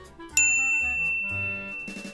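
Notification bell sound effect, a bright ringing ding that strikes sharply and rings out over a soft musical backdrop, with a few lighter chiming notes near the end.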